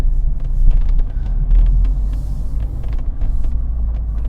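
A Mazda MX-5 roadster with tinted windows rumbles steadily from inside while driving around, a loud continuous low engine and road drone with occasional faint ticks and clicks, no talking.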